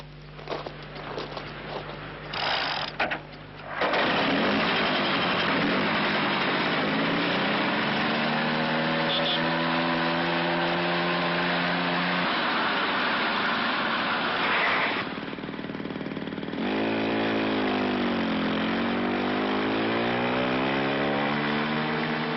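A Peugeot moped engine runs with a high, buzzing two-stroke whine that holds steady and then swoops down and back up in pitch. A brief burst of other sounds comes before it.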